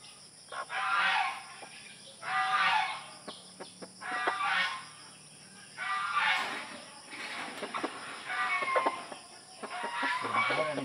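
Chickens kept in a coop cluck and squawk in repeated bursts about every two seconds, moderately close, over a steady high-pitched background hum with no talk.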